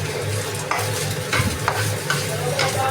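Filipino fried rice with egg is stirred in a hot pan, a spatula scraping in repeated strokes over a continuous oily sizzle.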